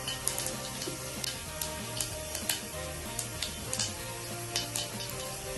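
Mustard and fenugreek seeds splutter in hot coconut oil, giving a steady close sizzle scattered with sharp, irregular pops and crackles, with no talking.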